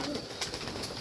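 Pigeons feeding eagerly from a bowl, heads pushed into the food, with soft cooing and bird calls against a steady, fairly faint background hiss.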